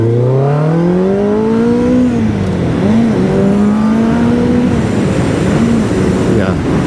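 A Kawasaki ZX11 motorcycle engine is blipped with small throttle twists, its loud, close exhaust note rising and falling through several revs over a constant idling rumble.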